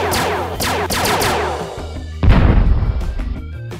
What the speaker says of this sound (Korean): 럭키펀치 달나라 미사일 발사!